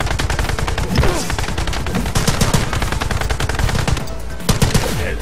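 Rapid automatic gunfire in the video game The Club, set in the red canals of Venice, with loud, dense bursts of shots overlapping continuously and no speech.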